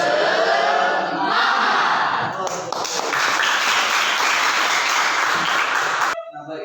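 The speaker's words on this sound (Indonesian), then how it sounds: "Sebelum kita mulai kita tepuk semangat dulu ya" A school class claps and chants together in a loud group spirit clap, a dense, steady wash of hands and voices lasting about six seconds before stopping abruptly.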